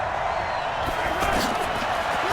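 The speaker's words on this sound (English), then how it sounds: "The crowd getting into it as we come up on a big third down." A stadium crowd in Madden 20 roars ahead of a big third down, a dense, continuous wall of cheering that swells slightly as it goes.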